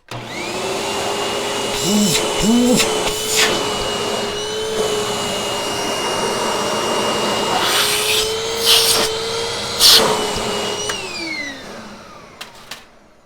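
A household vacuum cleaner runs with strong suction through its hose, a loud steady whine and rushing airflow lasting throughout, with a few brief bumps and rubbing knocks as the hose is handled.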